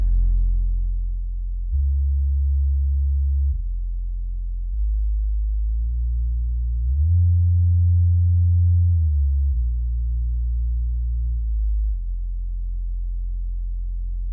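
A hi-fi sound check plays a subwoofer test: a steady, loud, low bass tone held alone for about fourteen seconds, stepping between several pitches with no talk.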